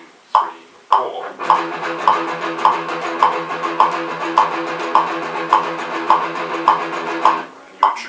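Metal guitar strummed in steady sixteenth notes, four even chugs per beat with regular accented attacks, played alone and fairly loud for several bars after a couple of opening hits.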